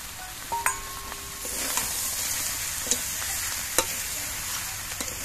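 Fried lentil dumplings dropped into onion stalks frying in oil: a steady sizzle with a few sharp clinks and taps of a utensil on the pan, close and moderately loud, with no voices.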